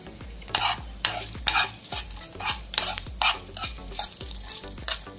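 Spices for Chettinad chicken curry frying in a pan over a medium flame: a lively sizzle with quick, rhythmic scraping and stirring strokes repeating close up throughout, with no voices.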